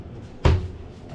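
A single thudding close of the oven drawer in an RV at an RV show, one sharp near bump with a short rattle trailing off against quiet room noise.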